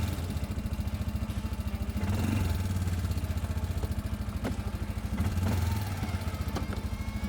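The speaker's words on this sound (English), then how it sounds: "all the gears are shifted easily" A Loncin X-Wolf 550L ATV idles with a steady, rapid mid-pitched engine pulse while its gearbox is shifted, bringing brief revs and mechanical clunks at intervals; no voices.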